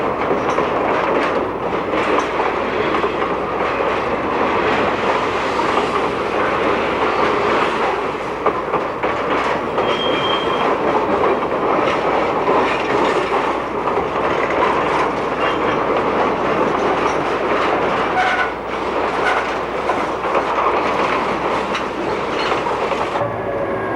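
Railroad cars rolling along track in 1993, a steady loud rumble with rhythmic clickety-clack of wheels over rail joints continuing throughout, no voices.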